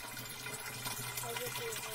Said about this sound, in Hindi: पानी यहाँ बिल्कुल ही नेचुरली नेचुरल मिलता है